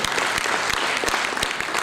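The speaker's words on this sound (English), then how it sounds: "I will clap for him" Applause from the audience at a national town hall meeting in Sierra Leone, a dense steady clapping that fills the short moment without a break.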